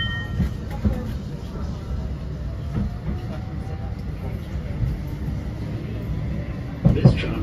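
A Blackpool tram rolls along its rails with a low, steady rumble and faint rattles inside the car, with a sharper clunk near the end.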